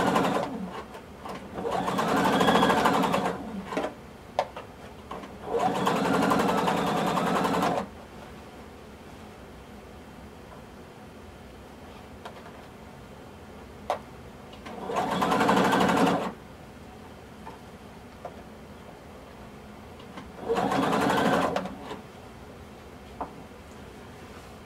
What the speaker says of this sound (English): Now we're going to sew using 5/8 of an inch seam allowance